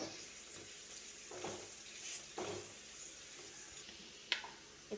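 Onions sautéing in a pan for vendakkai puli kulambu, a steady close sizzle with a few soft stirring scrapes and a sharp clink of a spoon near the end.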